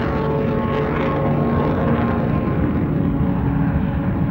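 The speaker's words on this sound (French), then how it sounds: "Le vieux 737 est bruyant et les vibrations sont importantes" Aboard an old Boeing 737 airliner in flight, a loud, steady cabin roar of engine and airflow noise with low vibration hum runs continuously without break.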